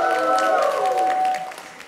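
Conference audience cheering and applauding in a large hall, a loud sustained crowd roar with clapping that fades slightly at the end.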